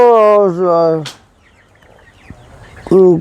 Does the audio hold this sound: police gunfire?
no